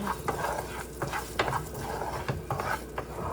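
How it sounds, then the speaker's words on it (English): A spoon stirs rice being toasted in a hot pot for arroz con pollo, giving repeated scraping, rubbing strokes over a soft steady sizzle, close and moderately loud. "You want to constantly stir your rice because you want it to toast, but you don't want it to burn"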